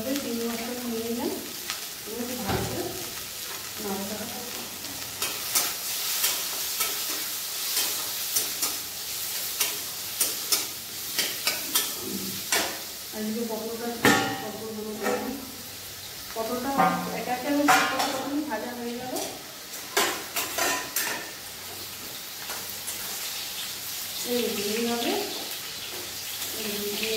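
Prawns sizzling and frying in a pan while being stirred, a steady hiss broken by repeated scraping stirs, with someone talking at intervals.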